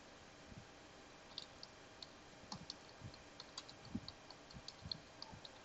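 Repeated keystrokes on a computer keyboard while a document is being typed and the Enter key is pressed, soft clicks and taps in an irregular rhythm, close and quiet with no voices.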